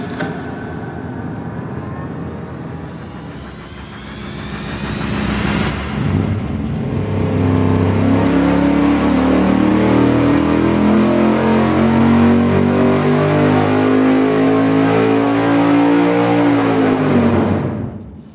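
A V8 engine with a swapped 4 and 7 firing order runs on a dyno, climbing through a long sweeping rev to a sustained loud roar, then cutting off sharply; close and alone, without talk.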